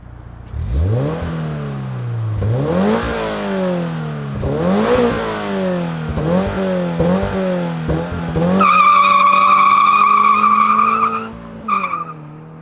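A 2023 Toyota GR86 with a GR catback exhaust and limited-slip differential revs hard in a string of sharp, rising rips that fall back between blips, then holds a loud, steady high-rev drone before cutting off near the end.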